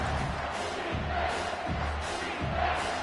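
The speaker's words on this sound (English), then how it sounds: "And here comes the noise." A stadium crowd at a Ball State versus Colorado State college football game roars in a steady, loud, sustained wash of cheering and shouting, swelling in waves as fans try to fire up the defense.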